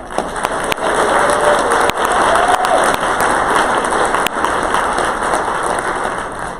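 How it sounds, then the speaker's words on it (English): An audience at a live conference opening session applauding a girlfriend group, a dense, sustained wash of many hands clapping together at a steady level, with a few sharper claps standing out. "I'd like to give another round of applause for the totally awesome girlfriend group."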